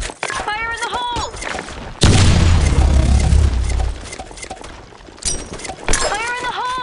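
A grenade detonates in the online shooter Blackshot during a public match, a loud booming blast with a rumbling tail lasting about two seconds, surrounded by shouted voices before and after.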